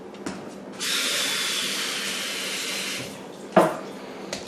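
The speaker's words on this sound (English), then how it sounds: "Drop it, wash my hands real fast." A kitchen tap runs for about two seconds while hands are washed during matzah ball soup preparation, a steady close hiss of water between brief knocks and a sharp clack near the end.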